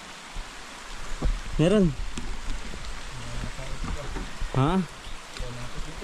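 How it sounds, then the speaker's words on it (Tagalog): Steady rain falls around an outdoor fishing spot, a continuous broadband hiss of drops on surfaces that holds through the clip, with brief talk and a couple of short calls over it. "Naulan na pati."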